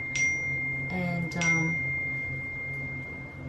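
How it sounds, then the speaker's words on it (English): A short bright electronic phone notification chime rings out twice, followed by a sustained high tone, with a brief spoken word near the start. "sorry, that's just my phone."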